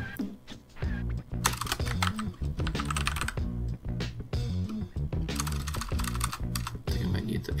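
Someone types a game title on a computer keyboard: quick bursts of close clicking keystrokes, paused now and then, over a steady low background sound.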